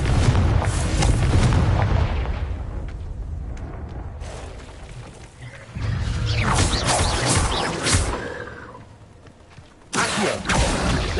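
Confringo blasting spell explosions in Hogwarts Legacy: loud booming blasts with rumbling low-end, a heavy burst at the start, more crashing impacts midway and another sharp explosion near the end, no talk.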